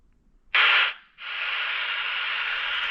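A Baofeng GT-18 handheld radio with squelch turned off gives a loud burst of hiss, drops briefly, then settles into steady, continuous static close to the listener.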